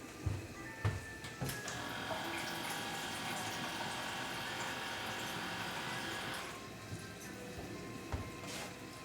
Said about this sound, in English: So I'm gonna actually add a little bit more water.